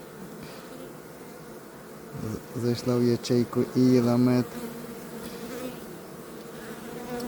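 Buzzing of honey bees in a hive rises in the middle, a few loud humming bursts close by, with a person speaking quietly over the steady hive drone.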